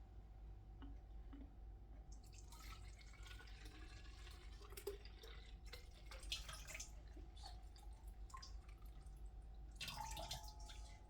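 A pint of liquid is poured into a big bowl, heard as faint, intermittent splashing and trickling with a soft drip, quiet throughout and louder near the end.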